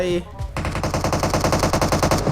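Rapid automatic gunfire in the video game PUBG Mobile, a loud, close burst of evenly spaced shots rattling on for about two seconds after a brief moment of other game sound.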